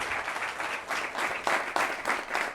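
Audience applause at a public road-safety forum, a steady broadband patter of many hands clapping together for the speakers, moderately loud and continuous with a few sharper bursts, no voices over it.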